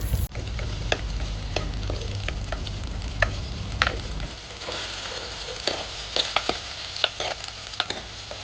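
Chopped tomato, slit green chilies and curry leaves sauté in a pan for a Kerala fish curry, a steady sizzle with scattered ticks and stirring scrapes, close and without talk.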